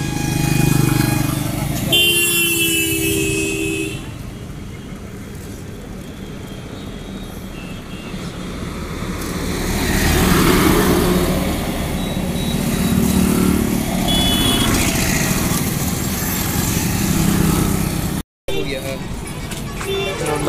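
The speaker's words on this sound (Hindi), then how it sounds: "जाइए टेस्ट ड्राइव लेकर आइए, गाड़ी कैसा चल रहा है देखिएगा" A Bajaj Pulsar motorcycle engine runs and revs nearby on a test ride, with brief horn toots, while people talk over the steady road noise.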